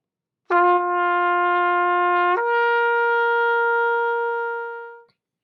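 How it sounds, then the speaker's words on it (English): A trumpet holds a bright sustained note, then slurs smoothly up to a higher note and sustains it before stopping, played alone. "when we add the trumpet, it sounds like this with the slur"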